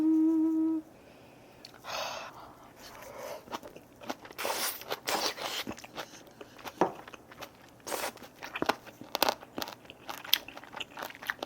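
Close chewing and crunching of braised aged kimchi with pork belly dipped in broth, irregular moist bites and crunches throughout after a brief opening tone, no talk.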